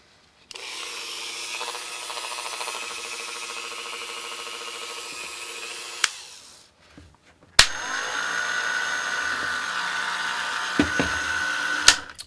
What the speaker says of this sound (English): The Dremel on low.